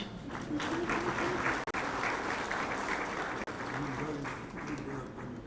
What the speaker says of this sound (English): A round of applause once again for the very eloquent and beautiful Dr. Anjana.